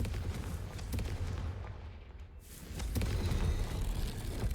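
A Confringo fire spell explodes in Hogwarts Legacy with a low rumbling boom and sustained roaring blast, easing briefly and then swelling again into a heavy, loud burst, with no voices over it.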